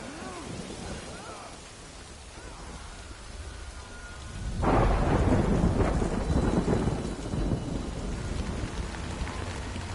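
A thunderstorm in the video game Death Stranding brings a heavy burst of thunder that rolls in partway through over steady rain pattering on surfaces, after a quieter stretch.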